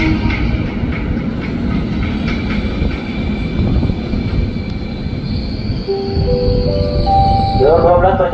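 A JR 205 rheostat-controlled KRL commuter train departs Manggarai station in Jakarta, a loud steady rumble of wheels and motors close by, with rising electric motor whine toward the end and faint metallic squeals.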